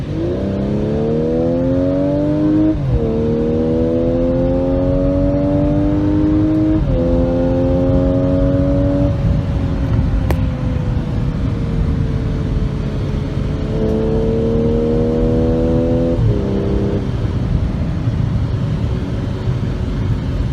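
An Audi SQ5 accelerates hard from inside the cabin, its loud engine drone climbing in pitch through several gear changes, each shift marked by a brief drop before rising again, with no talking.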